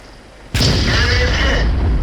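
A tank in the World of Tanks video game takes a shell hit, a sudden loud boom after a brief quiet moment, followed by a sustained roaring rumble that fills the rest of the moment.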